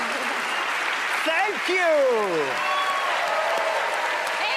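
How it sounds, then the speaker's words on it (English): A television magic show audience applauds steadily while a voice briefly speaks over the clapping. "Big applause for her."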